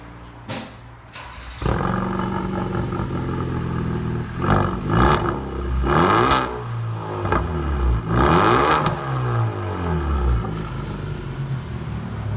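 A 2014 Hyundai Veloster Turbo engine with a muffler delete revs up repeatedly, loud and close, rising and falling in pitch with a roaring whir between throttle blips.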